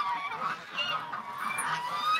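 Ducks honk and quack in a brief agitated burst, several nasal calls overlapping at close range, with no talking.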